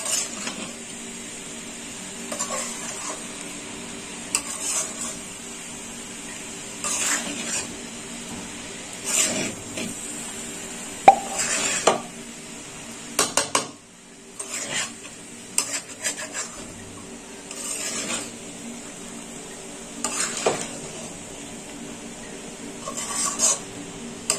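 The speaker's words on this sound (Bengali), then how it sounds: "এবার দিয়ে দেবো কাজু আর কিশমিশ, আর একটু নেড়ে চেড়ে নেবো।" Cashews and raisins stirred in a pan for vegetable rice, heard as scattered scraping clinks of a spoon against the metal over a faint, steady background hiss, fairly quiet with irregular bursts.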